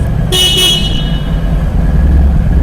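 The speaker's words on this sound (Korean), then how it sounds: "크락션" A Harley-Davidson motorcycle horn honks once, a short bright blast lasting under a second, over a steady idling engine rumble that continues afterward.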